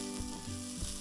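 Garam masala and turmeric powder sizzling in a pan of pasta masala, a faint steady hiss with a couple of soft knocks as the spoon stirs, quiet and close, no voices.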